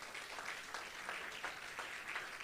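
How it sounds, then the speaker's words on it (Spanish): Applause from a church congregation praising the Lord, a continuous rushing clatter of many hands with gentle surges, sounding somewhat distant and muffled. "Denle un aplauso fuerte al Señor."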